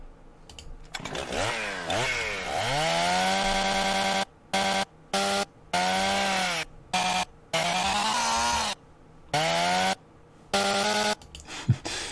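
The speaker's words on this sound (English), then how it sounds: "You can hear the chainsaw sound effect here." A loud, revving chainsaw snarls in choppy bursts, cut off and restarting in a rhythmic pattern over a driving electronic music track.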